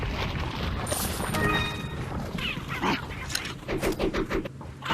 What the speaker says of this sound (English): Those chickens sound like foots,